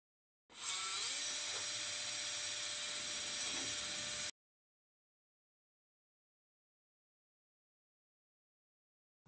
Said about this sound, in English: A monocortical self-drilling locking screw is inserted using a power tool, but not fully tightened.